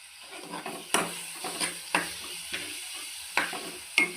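Onions, green chilies and tomatoes stirred in hot oil in a pan, a steady low sizzle broken by repeated scraping strokes of the spoon at irregular intervals, close and moderately loud with no talking.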